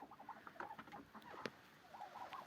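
Domestic chickens at a country house, with soft scattered clucks and brief calls heard faintly from a short distance, plus light rustling between them.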